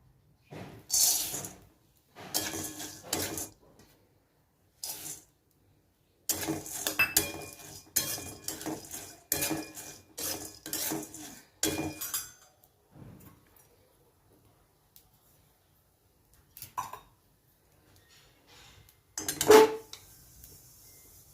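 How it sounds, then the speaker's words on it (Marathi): Seeds roasting in ghee in a pan, stirred with a metal spoon in bursts of clinking and scraping against the pan, close and fairly loud, separated by quiet pauses. "ह्या दोन्ही बिया आहेत हे आपण भाजून घेऊयात"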